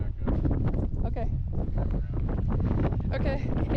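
Strong wind blasts a microphone on a pointy mountain top reached by old mining roads. The rumble is constant and heavy from start to finish and buries everything else.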